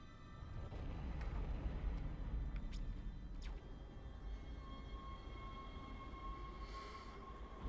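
A tram rolls along rails in the video game Dead Space, giving a steady low rumble with faint metallic squeaks and clicks and a thin sustained whine, with no talk over it.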